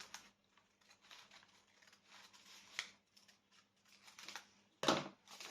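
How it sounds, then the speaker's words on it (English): Scissors cut through paper in a series of close, crisp snips and rustles, short bursts spaced irregularly with a sharper, louder cut near the end, quiet otherwise. "And then get your scissors and cut it."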